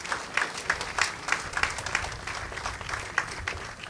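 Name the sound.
applause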